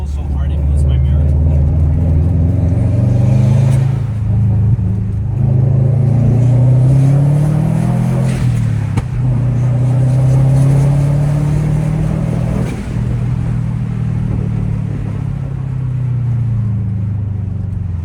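Subaru WRX accelerating hard from inside the car, a loud, continuous engine roar rising and falling in pitch through several gear pulls, with people talking over it.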